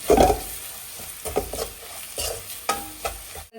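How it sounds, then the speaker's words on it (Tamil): Onion masala sizzling in a hot pan while a spoon stirs and scrapes in repeated strokes, steady frying hiss throughout. "சேர்த்துட்டு பச்சை வாசனை போற வரைக்கும் நல்லா வதக்கி விடணும்"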